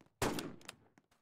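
A single sharp sniper-rifle shot cracks out in a Roblox Fortnite-style game, followed by its fading tail and a few faint mechanical clicks.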